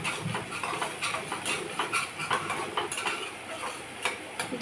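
A spoon scrapes and stirs onion paste as it sautés in a pan for dum aloo, making light irregular clinks and scrapes at close range with a soft frying hiss underneath.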